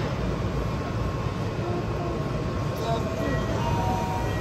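A Keikyu train in Japan passes nearby, a steady, continuous roar of wheels and rail noise that fills the whole stretch at a fairly close distance.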